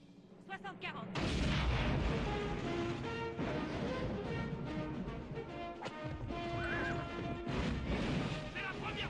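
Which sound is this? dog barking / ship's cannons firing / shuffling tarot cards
ship's cannons firing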